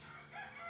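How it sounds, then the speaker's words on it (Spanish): A rooster crows faintly in the distance, a short, rising call heard briefly over quiet background. "Los gallos y los pájaros ya están cantando."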